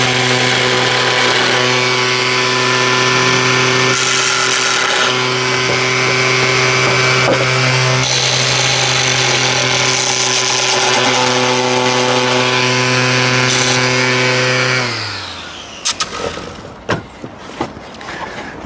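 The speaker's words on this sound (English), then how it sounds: "And we'll just cut those off and then sand them down a bit then." A power tool cuts and sands wood for a garden build, giving a loud, steady motor whine that runs for about fifteen seconds and then stops, followed by a few scattered knocks and scrapes.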